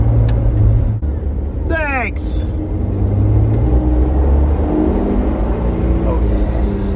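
A 1949 Studebaker Champion drives and accelerates with a steady low engine rumble and road noise, a person speaking once over it along with a brief squeak.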